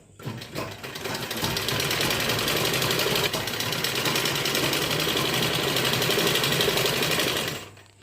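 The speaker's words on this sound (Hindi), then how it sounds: "अब यहाँ नीचे आधा इंच के सिलाई मारा" A sewing machine runs one long, steady stitching pass along the half-inch hem of a blouse, its close, loud motor whir starting up quickly and stopping near the end, with no voices.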